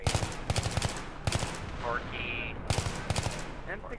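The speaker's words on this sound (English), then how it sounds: "M16 has semi auto fire" Repeated M16 rifle shots in the video game Battlefield 3, sharp cracks fired in quick bursts and short single volleys, loud and close, with brief game chatter mixed in.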